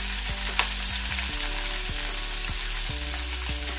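Green chillies and chopped onion pieces frying in a pan with mustard seeds for a Telugu chukkakura pesara pappu, a steady close sizzle with soft stirring scrapes running throughout, no voices.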